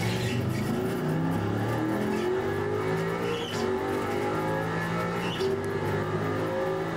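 Grand Am race cars circle Mid Ohio in the iRacing game, engines roaring loudly and steadily with shifting pitch as several cars run close together, no talk over it.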